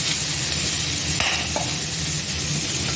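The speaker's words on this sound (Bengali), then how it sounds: "এবার পেঁয়াজটাকে ভালো করে নেড়ে" Onions for a mutton mughlai fry in a pan, a dense close sizzle with brief utensil scrapes as they are stirred; no talking.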